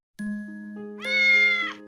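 A cartoon cat in a 3D children's animated story gives a single clear, drawn-out meow that rises in pitch midway and ends abruptly, with a steady tonal music bed underneath.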